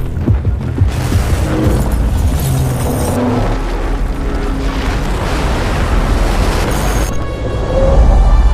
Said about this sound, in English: this whole tower gets destroyed once the underlying pillars are taken out